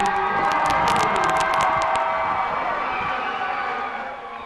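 A crowd fills a high school basketball gym during a Raiders versus Gering game. Loud, dense cheering and shouting with some sharp high squeals dominate the first half, then ease into a steadier murmur that fades toward the end.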